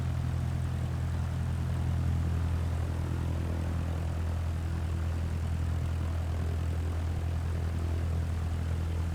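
Simulated Cessna 172 single-engine propeller plane taxiing in Microsoft Flight Simulator 2024, a steady, loud low engine drone and propeller hum that holds constant throughout.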